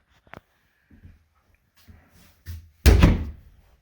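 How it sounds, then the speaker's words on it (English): Inside a house kitchen, a door beside the refrigerator is worked open, with a few faint knocks and rattles followed by a sudden louder thump and scrape as it gives way. "Behind this door, if I can open it, is the side of my refrigerator."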